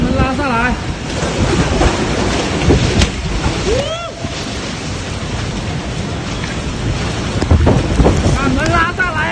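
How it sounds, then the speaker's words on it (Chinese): Strong gusting wind and driving rain lash a building during a severe convective thunderstorm in Guangdong, roaring loudly and continuously close to the microphone, with excited voices calling out over the storm. "橫風橫雨啊！"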